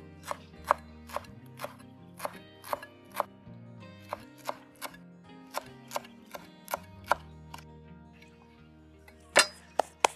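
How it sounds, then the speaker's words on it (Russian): Fresh dill being chopped with a knife on a cutting board in a kitchen, a series of crisp, evenly spaced blade taps about once a second, close and clear with no talk. "Укропчик нам еще понадобится, когда картошка будет почти готова. Я немножко порежу, посыплю сверху."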